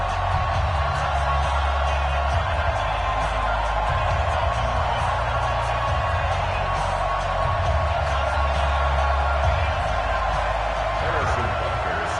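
A stadium crowd in an NFL football game roars steadily in the background, a constant dense wash of cheering under a commentator's voice.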